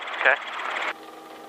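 A Robinson R22 helicopter in flight, its engine and rotor giving a steady buzzing drone with a rhythmic pulse, heard from inside the cabin under a pilot's radio talk.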